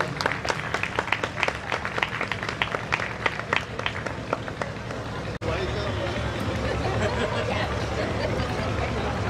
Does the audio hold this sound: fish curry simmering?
no